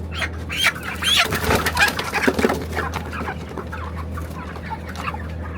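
Broiler chickens clucking and squawking at close range over a steady low hum, with occasional wing flapping and a busy cluster of calls early on.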